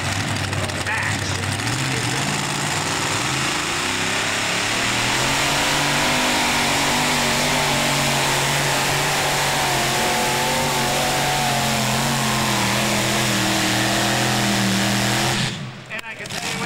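Roaring modified tractor-pulling engine with a triple-throttle turbo setup at an NTPA pull in Brigden, Ontario, a loud sustained multi-engine drone rising and shifting in pitch, with voices talking over it before it cuts off near the end.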